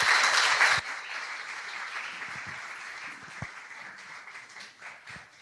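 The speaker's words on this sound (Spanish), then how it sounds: "Muy bien, un aplauso así." Audience at a conference breaks into applause, a loud burst of clapping at first that settles into lighter, scattered claps fading down, with no talking.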